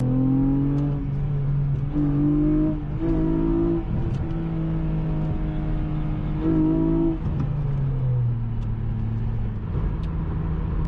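Honda Accord Coupe with a J32 V6 engine pulls hard on a freeway, its engine note climbing and dropping through several rising revs and gear changes, loud and close from inside the car.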